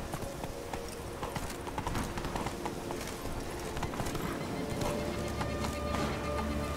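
Horse hooves in The Witcher 3, rapid rhythmic clip-clop of a galloping horse, loud and close over a dense layer of game ambience and insect-like buzzing.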